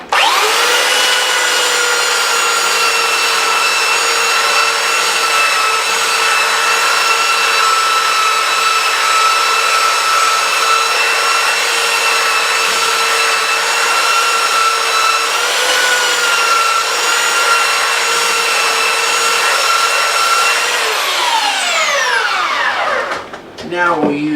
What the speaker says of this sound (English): So let's sand this off. So I'm using the first is my 40 grit, and we'll get most of the white off